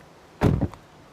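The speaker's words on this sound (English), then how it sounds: "Close the door." The door of an Xpeng G6 Performance Black Edition electric car swings shut with a single close, heavy thunk and a brief softer follow-up, over quiet background hiss.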